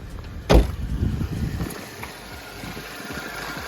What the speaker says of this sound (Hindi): देख लो कि इंजन में ज़्यादा नॉइज़ नहीं है